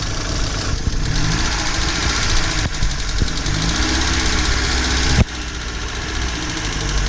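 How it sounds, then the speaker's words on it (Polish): A used car's engine idling on petrol, a loud, steady, close rumble with a slight knocking texture that runs throughout, with a brief thump near the end and no talk. "Pokaż jak na benzynie chodzi."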